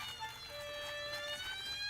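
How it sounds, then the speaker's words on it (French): A toy fire truck's electronic siren wails in a steady, thin, rising tone at moderate loudness, playing alone with a light background hiss. "Caillou s'amusait avec son camion de pompiers."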